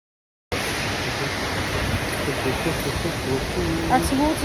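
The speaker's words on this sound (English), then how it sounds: "Oh, there's waterfall. It's a waterfall." A waterfall near Cairns in Queensland pours with a steady, full broadband roar, close and continuous after a brief silent start, with faint voices underneath.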